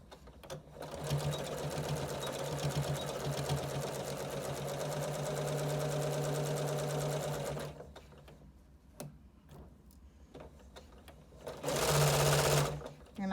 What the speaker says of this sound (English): And I go about 3 or 4 stitches, and then I back stitch 2 or 3 times.